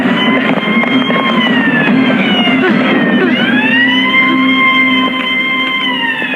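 A loud police siren wails steadily throughout, its rising and falling tone close and dominant over background street noise.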